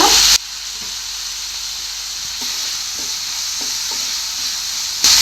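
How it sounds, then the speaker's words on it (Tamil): Steady sizzling and hissing of onions and tomatoes frying in a hot pan for chicken samosa filling, with a few soft stirring clicks; no voices. "இப்போ வந்து வெங்காயம் நல்லா ரோஸ்ட் ஆகிட்டு இருக்கு"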